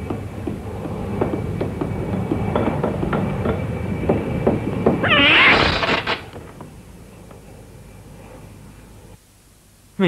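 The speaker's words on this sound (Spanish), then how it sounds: "Nunca he oído a un gato hacer un ruido así." A cat in a 1967 film lets out a strange, drawn-out vocal cry amid a rumbling, noisy background, the wailing peaking briefly near the middle before the sound drops away into near quiet.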